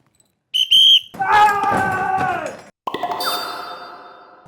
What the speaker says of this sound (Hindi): स्टार्टिंग की सीटी हम बजाऊंगा।